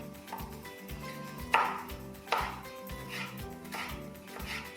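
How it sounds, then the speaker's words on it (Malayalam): A knife slicing lemon thinly for a homemade salad, quiet irregular taps on a cutting board with two sharper strikes, heard close over faint background noise. "വളരെ തിന്നായിട്ട് അരിഞ്ഞിട്ട്"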